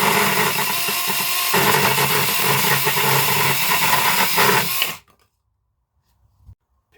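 Mini cordless chainsaw cutting through a piece of soft pine, a loud, steady, broadband motor-and-chain whine for about five seconds that stops abruptly, followed by near silence with a faint knock.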